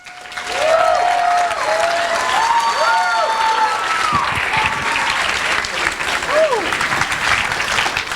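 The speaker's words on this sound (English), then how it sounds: "So let's get a round of applause." Loud, sustained applause from a hackathon audience at an opening ceremony, full and steady throughout, with a person speaking over it.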